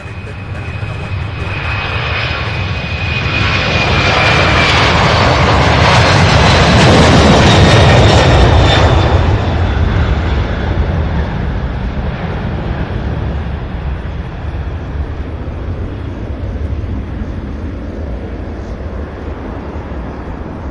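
A UPS Boeing 767 jet takes off from SDF in Louisville, a loud broadband engine roar that swells to a peak and then slowly fades as the aircraft climbs away, with a whining engine tone drifting across.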